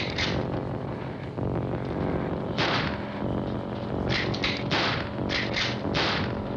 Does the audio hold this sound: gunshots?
yes